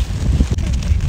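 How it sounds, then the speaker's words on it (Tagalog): Strong wind buffets the microphone with a heavy, low rumbling roar for about a second. "Malakas lang yung hangin."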